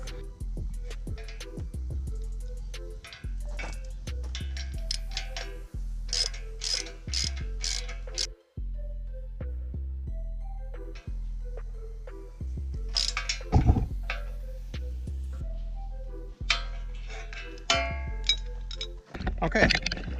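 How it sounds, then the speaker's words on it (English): Auger bolts being tightened on a County Line three-point post hole digger, a series of metallic ratcheting clicks and clinks in short bursts with pauses, close and fairly loud, with someone talking intermittently. "now we got both of the auger bolts in, and they're all tightened up"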